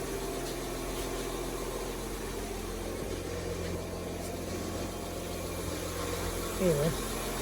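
A 2015 Audi Q7 TDI diesel engine idles steadily with a low, even rumble and faint vibration, close by, while a voice speaks intermittently over it.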